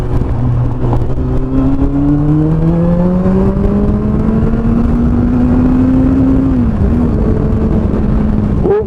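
A Kawasaki Z800 big-capacity motorcycle engine drones loudly while being ridden on a bumpy city road, its pitch climbing gradually as the rider accelerates, then dipping briefly near the end.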